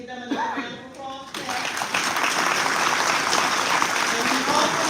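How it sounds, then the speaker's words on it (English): Audience at a city state-of-the-city address breaks into a sustained round of applause, starting after a short gap and building into dense, steady clapping with some crowd noise throughout. "So we need to give them another round of applause."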